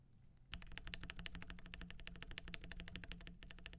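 Lubed MCG 129 mechanical keyboard switches clack as they are typed on at a quick, steady pace. The deep keystrokes follow one another in a dense run after a brief quiet start.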